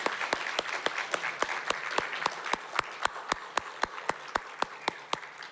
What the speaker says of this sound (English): Can I have another round of applause for every single one of our storytellers?